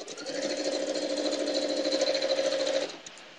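A sewing machine stitching a rail fence quilt, one steady burst of rapid mechanical chatter lasting about three seconds, close and alone, then stopping.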